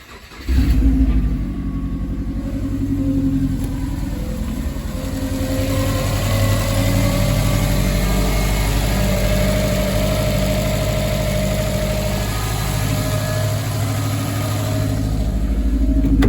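Subaru Impreza stage rally car engine starts up and then runs at a steady, rough idle, loud and close, with a low throbbing rumble throughout and no talking.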